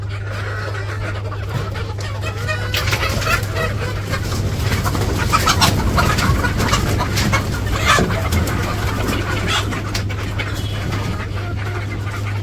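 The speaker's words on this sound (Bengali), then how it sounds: "তো এই যে মুরগির ঘরে এসে পড়ছি, তো মুরগির এই যে খাবার দিব এখন।" Village chickens in a coop at feeding time, a dense chorus of clucks and cackles from many birds close by over a steady low mechanical hum, with a few squawks standing out.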